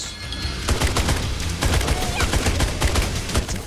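Rapid gunfire from long- and medium-range weapons in the shooter video game Holy Shoot, with dense bursts and volleys that repeat loudly and steadily, close up, throughout the stretch.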